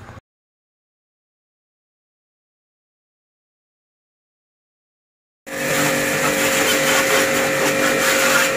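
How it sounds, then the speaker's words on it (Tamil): A Honda Aviator scooter is water-washed with a pressure washer: after several seconds of silence, a loud steady rushing spray starts abruptly and continues unbroken to the end. "இப்போ வண்டியை வாட்டர் வாஷ் பண்ணி எடுத்துகிட்டு வந்துடலாம்"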